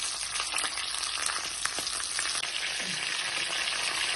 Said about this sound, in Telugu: కరివేపాకు, పచ్చిమిరపకాయలు ఈ ఆయిల్లో కొంచెం ఫ్రై అయితే